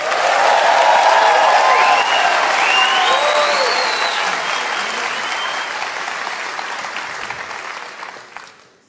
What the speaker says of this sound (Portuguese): façam muito barulho pro Piadas Rápidas